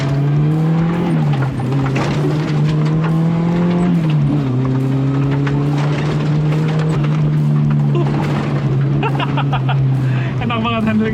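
Suzuki Jimny Katana with rally raid styling speeding down a straight off-road track, its engine droning loudly and steadily with gear-change dips, while a person talks over it throughout.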